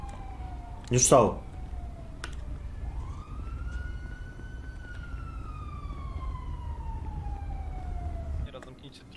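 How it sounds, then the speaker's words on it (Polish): A wailing emergency vehicle siren in a video game rises and slowly falls in long sweeps, fairly loud and steady, with a brief spoken line and a sharp clatter near the start. "Już jadą, słychać sygnały."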